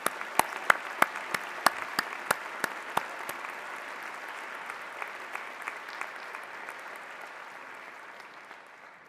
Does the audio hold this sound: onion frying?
no